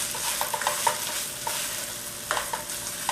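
Textured vegetable protein with teriyaki sauce sizzles steadily in a hot pan while a spoon stirs it, scraping and knocking against the pan in a loose irregular rhythm, close and fairly quiet, with no talking.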